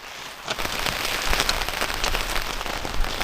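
Heavy rain drumming on a tent during mountain camping: a dense, loud, continuous patter of drops close overhead, with no one speaking.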